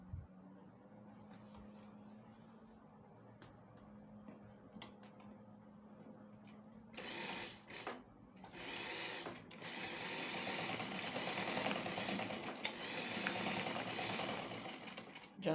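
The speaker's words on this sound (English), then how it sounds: "you just make a small sewing here to hold this pocket to hold your trouser to this pocket fabric" Sewing machine stitching a small seam to hold a pocket to palazzo trouser fabric, a soft steady whirr at first that grows louder and busier in bursts partway through.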